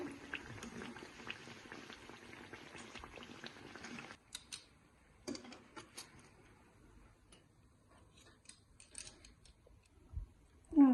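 Lentil fritters (bora) frying in oil: a soft bubbling sizzle for the first few seconds, then quieter stretches broken by scattered pops, clicks and utensil taps.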